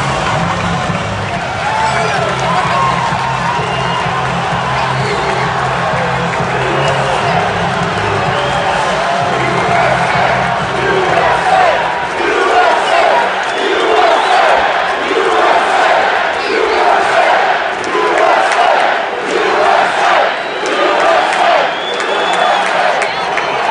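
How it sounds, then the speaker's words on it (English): A large arena crowd roars and cheers after a hockey goal, a loud sustained wall of shouts and whoops that swells and stays intense throughout. "The crowd goes wild."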